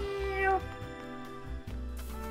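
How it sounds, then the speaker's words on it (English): A cat in the video game Triangle Strategy gives a single short, rising meow over soft, steady background music, with no talking. "Oh, there's a cat here."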